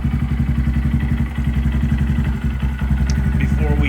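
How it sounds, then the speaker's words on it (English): 2022 Honda Grom motorcycle fitted with a Yoshimura RS9T exhaust idling up close, a steady deep low pulsing rumble with light mechanical clatter and a voice briefly audible. "I'm gonna let that idle for a bit"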